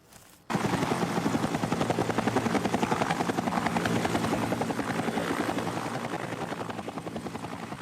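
Helicopter in a Hindi-dubbed Hollywood science fiction movie, its loud rotor chop and turbine roar starting abruptly after a brief quiet moment, then pulsing steadily and fading slightly toward the end.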